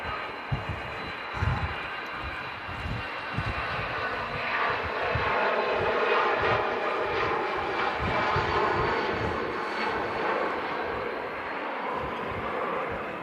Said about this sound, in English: Off goes the Brussels Airlines A320.